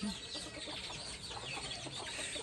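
Free-range local chickens cluck continuously at a chicken farm, a busy overlapping chorus of hens close by with steady background noise.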